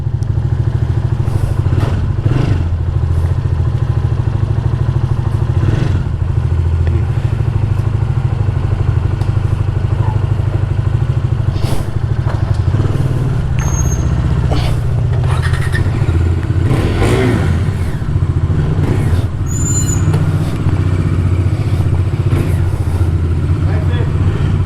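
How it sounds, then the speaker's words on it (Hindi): A motorcycle loaded with luggage rumbles steadily close by after a cold start on a forest road, its engine note rising and falling as it pulls away, with occasional clatter. "थोड़ी कोल्ड स्टार्ट, देन बढ़ते हैं आगे।"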